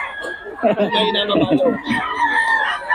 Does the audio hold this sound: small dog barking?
no